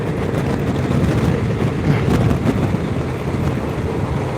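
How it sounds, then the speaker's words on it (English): Steady, loud wind buffeting from riding a motorcycle across America, a continuous low roar and rush of air with no talking, constant for the whole stretch. "Out here riding my motorcycle across America"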